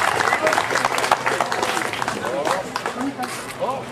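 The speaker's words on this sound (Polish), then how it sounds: "Wielkie brawa." Applause from the audience at a sailing regatta award ceremony, a busy patter of clapping mixed with voices and crowd noise, fairly close and continuous throughout.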